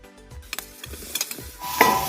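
A spoon scrapes and stirs fried potatoes through spices in a pan, with a few sharp clinks over a soft sizzle of frying, growing louder near the end.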